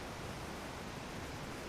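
Waterfall in the VR game VRChat, a steady, even wash of rushing water that fills the whole short stretch, soft and unbroken with no voices.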